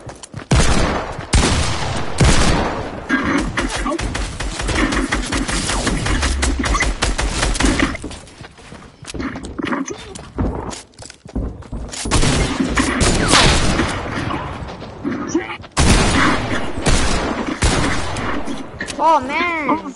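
Rapid automatic fire from a drum gun in a shooter video game, sustained loud bursts that break off briefly and resume, with people talking over the shooting.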